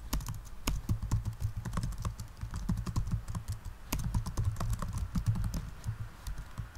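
Fingers typing code comments on a computer keyboard, a close, continuous run of quick clicking keystrokes with brief irregular pauses.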